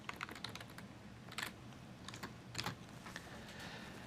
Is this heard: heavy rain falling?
no